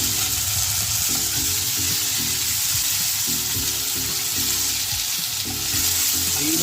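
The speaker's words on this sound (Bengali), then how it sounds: "এই রসুন আদা একসঙ্গে আমি পেস্ট করে রেখেছিলাম, এটা 2 চামচ দিয়ে দেবো।" Garlic-ginger paste sizzles steadily in a hot pan while chicken tehari is cooked, with a continuous bright frying hiss and scattered low clatter from stirring, close and fairly loud, no voices.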